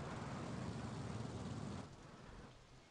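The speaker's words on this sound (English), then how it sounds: "hey, it's raining." Steady rain falling in a theme park simulation game, a dense even hiss that holds loud for almost two seconds before easing to a softer wash.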